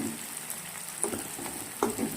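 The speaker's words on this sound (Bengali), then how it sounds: "তেল গরম করে সর্ষের তেল, তাতে পেঁয়াজটা দিয়ে দিয়েছি" Onions frying in hot mustard oil make a faint, low sizzle, broken by a couple of sharper stirring scrapes and clinks in a short stretch.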